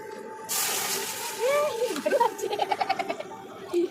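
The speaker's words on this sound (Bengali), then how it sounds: "এখানে কড়া বসিয়ে দিয়েছি এর মধ্যে জল দেবো" Water is poured into a kadai set on the stove while making homemade pizza, giving a short splashing rush followed by voices nearby.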